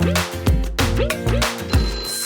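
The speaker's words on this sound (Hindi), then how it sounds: "पता नहीं क्यों मोइन का मोबाइल मुसलसल बजे जा रहा है" A mobile phone keeps ringing in a home during a drama scene, its loud melodic ringtone repeating in bursts about every half second, close and steady.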